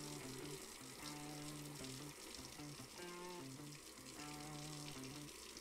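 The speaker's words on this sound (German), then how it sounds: "Machen wir uns schon mal bereit für den Wasserhahn." Steady rush of water from a tap in the brewing game Brewmaster, running continuously beneath tonal game music with no pauses.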